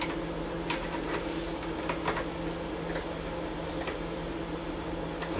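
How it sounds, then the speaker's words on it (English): A newly installed condenser fan motor on a Hotpoint HTR17BBSER refrigerator runs with a steady, even hum and whir. Faint clicks and ticks sound now and then, with no voices. "the new fan motors installed, the fan spinning freely"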